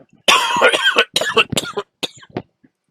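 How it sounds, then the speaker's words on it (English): Several sharp, close coughs in a burst, followed by a few quieter, scattered coughs trailing off, with no talking. "I really tried not to cough"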